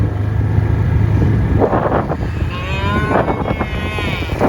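Several cows moo loudly nearby, their low drawn-out calls overlapping, with a vehicle engine humming in the background.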